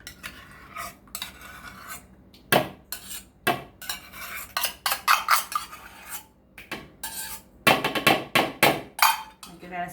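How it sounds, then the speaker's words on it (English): A metal spoon stirring milk in a cup, giving bursts of rapid clinking and scraping against the sides, close and clear, with pauses between rounds of stirring. "I'll give that a stir now."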